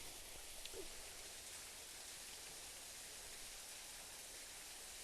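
A small waterfall spills along a creek trail near Kingston, Arkansas, giving a steady, even wash of falling water that holds unchanged throughout, with no voices over it.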